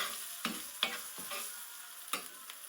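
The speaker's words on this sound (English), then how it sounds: "I'm just going to stir in some garlic." Garlic is stirred into a pan with seasoned breadcrumbs. A few sharp scraping strokes of the spoon, about five in all, cut through a faint soft sizzle, quiet and close, with no talking.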